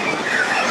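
Tourist train cars on an old sugar cane railway rattle over uneven, unleveled track, a close, loud continuous rumble and clatter with metallic squeal.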